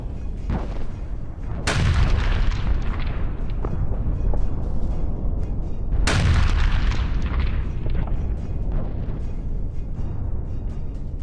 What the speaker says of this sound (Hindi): चीन के जेजियांग पोर्ट पर भीषण विस्फोट